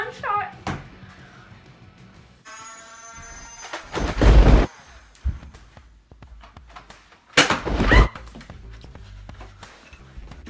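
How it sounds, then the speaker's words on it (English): Two loud, sharp bangs with a short decay ring out a few seconds apart, each standing well above the quieter background noise. "and I heard a gunshot."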